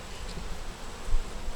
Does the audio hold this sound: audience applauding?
no